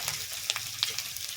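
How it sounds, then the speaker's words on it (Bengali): Chicken pieces frying in a pan with spices while being sautéed for a curry, giving a steady close sizzle with a few soft stirring clinks and no talking. "এরকম করে ভেজে নিয়েছি।"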